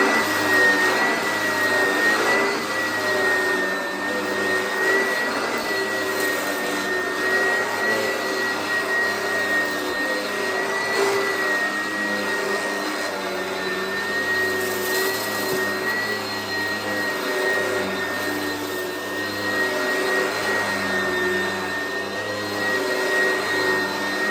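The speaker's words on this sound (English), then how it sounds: "I'm going to go ahead and vacuum." Vacuum cleaner running steadily during a professional cleaning job, a loud continuous motor whine with a high tonal hum, sustained throughout without talk.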